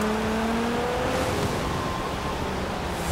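Steady, loud engine drone from a race car in the video game Forza Horizon 4, with rising and sliding revs throughout and no break or talk.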